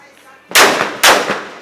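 Firecrackers explode in a Hmong village during New Year celebrations: two loud, sharp bangs about half a second apart, each trailing off in crackling echoes.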